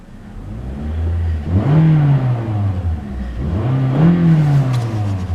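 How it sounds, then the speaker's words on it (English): A 2014 Toyota Corolla four-cylinder engine revs twice, each time climbing from idle to a loud, droning peak before easing back down, with no one speaking. "Toyota just doesn't have that great sounding 4 cylinders"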